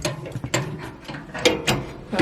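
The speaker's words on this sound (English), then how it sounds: "I'm gonna disconnect the hose from the propane. Or disconnect the propane hose from this heater." A propane hose is worked loose from a heater fitting, giving a series of close, sharp ratcheting clicks and metallic snaps at an uneven rhythm.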